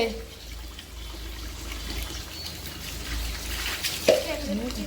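Water is poured or run in a home kitchen, a soft splashing flow that picks up toward the end amid background noise and faint voices.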